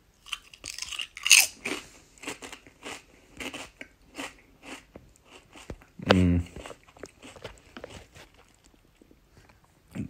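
Crunchy Utz smokin sweet barbecue kettle chips being chewed close up, irregular bites and crunches with a couple of louder snaps, and no talking.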